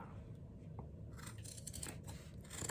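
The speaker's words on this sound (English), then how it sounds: "And then we're going to cut it with the scissors." Scissors snip through denim jeans being cut up for a tote bag, a few soft crunching cuts close by over a low background hum.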